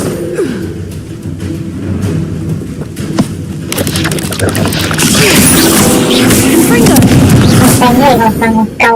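A Confringo blasting spell goes off in Hogwarts Legacy: a sudden loud, broadband blast erupts partway through a busy game soundscape, followed by a sustained rumbling roar with scattered crackles.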